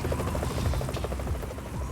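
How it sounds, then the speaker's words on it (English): A helicopter in the video game Yakuza: Like a Dragon gives off a steady, loud rotor drone that holds through the full two seconds, thick with low chopping pulses, and no voice sounds over it. "They have a fucking helicopter"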